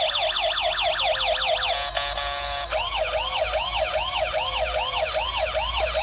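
An electronic toy ambulance siren wails in rapid rising-and-falling sweeps, switching briefly to a beeping tone before the wailing resumes, loud and close.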